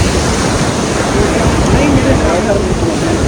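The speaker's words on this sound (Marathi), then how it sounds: "आम्ही आता पोहोचलोय कलिंगूट काय ते आहे त्या बीचवर" Ocean surf washes steadily onto Calangute beach, a continuous loud roar of breaking waves mixed with wind buffeting the microphone, with no clear break in the wash.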